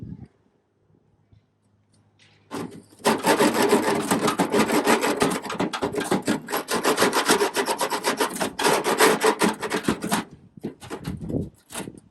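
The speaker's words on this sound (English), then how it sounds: "let's see if we can just scrape the rest of this off" A hand scraper is dragged repeatedly across an old tool box to remove stuck-on residue, making loud rasping strokes in quick succession close up for about seven seconds, then stopping.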